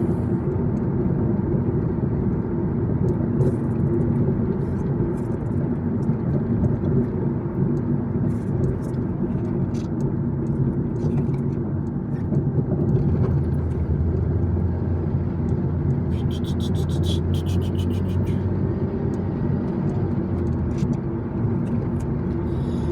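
Steady road noise inside a car driving in traffic, a constant low rumble and tyre roar with no speech, occasional faint clicks and rattles over the drone.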